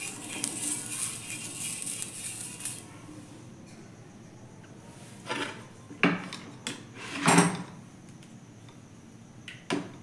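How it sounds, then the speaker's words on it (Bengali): Oil being brushed onto a hot tawa before making pitha: a soft hissing sizzle at first, then quieter scraping brush strokes and a few scattered light clinks close by. "এখানে তাওয়া গরম হয়ে গেছে, এর মধ্যে একটু তেল ব্রাশ করে নিচ্ছি"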